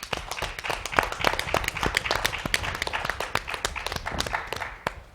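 Audience applause fills a hall after a speech at an activism event, with dense, steady clapping from many hands at even loudness throughout.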